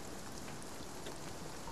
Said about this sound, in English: this rain. Will it ever stop?